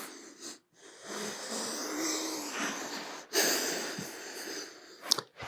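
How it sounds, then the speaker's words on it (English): Heavy, close breathing, a run of long, rasping wheezy breaths with brief pauses between them, soft and intimate in a quiet room. "If I sound like I'm breathing hard,"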